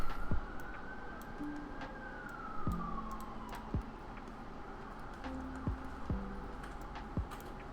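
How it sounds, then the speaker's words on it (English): A far-off emergency siren drifts in from outside, a thin sliding tone that fades after a couple of seconds, while indoor taps, clicks and short tones continue quietly. "Lots of sirens outside as usual."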